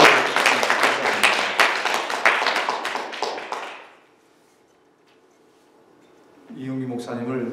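A church congregation claps warmly to welcome a pastor, with dense, loud applause for about four seconds that fades into near silence before a voice starts speaking.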